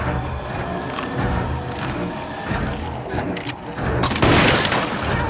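A blast in the video game Little Nightmares 2 rumbles amid dense, noisy game action, with sustained low crashing and a louder burst near the end.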